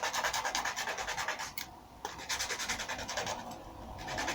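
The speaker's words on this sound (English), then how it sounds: "Take your corner, place it in your sandpaper, and then just round off that edge" Sandpaper rounding off the corner edge of a Stormtrooper armour cover strip, close repeated rhythmic rubbing strokes with a brief pause midway, steady and fairly quiet with no talk.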